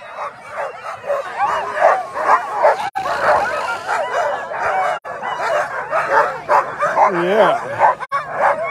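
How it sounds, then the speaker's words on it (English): Sled dogs bark, yip and whine excitedly in a continuous chorus at the start of the Knik 200 mile dog sled race in Alaska, the team close by while a person speaks briefly over the noise. "Hi, you happy dogs."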